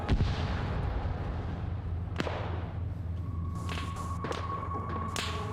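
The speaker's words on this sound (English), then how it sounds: "You got some shots coming from up there." Distant gunshots in a tactical shooter video game set in Russia, a few sharp isolated cracks over a steady low rumble of background noise.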